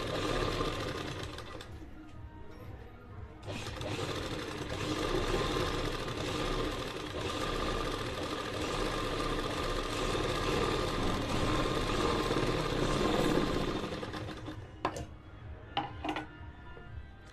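A sewing machine stitches along the edge of salwar fabric, its motor running in a fast continuous whir that briefly pauses and restarts, close and steady with no talking.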